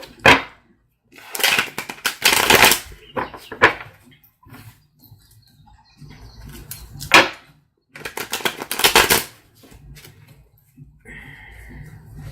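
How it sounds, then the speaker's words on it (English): Tarot cards being shuffled by hand in a series of loud, crisp riffling bursts with short pauses between them, close up and with no talking. "Let's get a little bit more shuffle on there."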